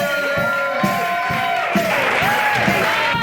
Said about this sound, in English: please give a big round of applause for my friend Todd Basinger.